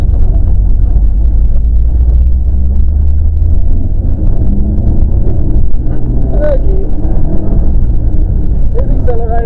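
A rally car at a rally school climbs uphill under steady acceleration, its engine a loud, continuous low drone with road rumble close by, while a coaching voice talks over it.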